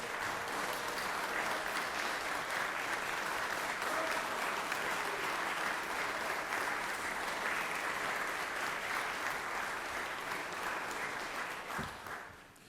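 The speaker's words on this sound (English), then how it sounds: "So give him a round of applause, ladies and gentlemen." Long, steady round of applause from senators and guests in the Georgia Senate chamber, dense continuous clapping at a moderate distance that fades out toward the end.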